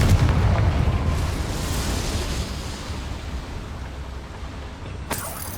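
A Confringo fire spell bursts in Hogwarts Legacy inside a boiler room, a loud, deep rumbling blast that decays slowly over several seconds, with a brief sharp pop near the end.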